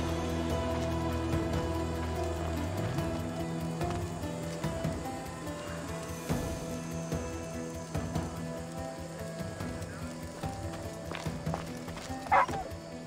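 Guard dogs barking in Assassin's Creed Odyssey, a few scattered barks mixed into a busy game soundscape with music and ambient rain-like noise, moderately loud throughout.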